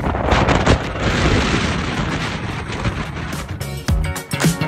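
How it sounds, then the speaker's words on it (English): Strong gusts batter the microphone near a mountain summit outside Salt Lake City, Utah, a loud rumbling roar that swells and dips with the gusts and ends in a few sharp buffets. "it's super windy up here."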